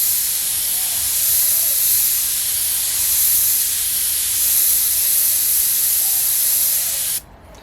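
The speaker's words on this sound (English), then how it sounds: "here I've got my airbrush maybe a hand span away from the painting and just slowly building it up" An airbrush sprays paint onto a portrait painting from about a hand span away, giving a steady, close, continuous hiss that holds for about seven seconds and then cuts off abruptly.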